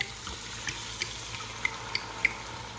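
Red wine reducing in a hot pan gives off a steady low simmering sizzle, with a few soft clicks and taps of a utensil rising above the bubbling.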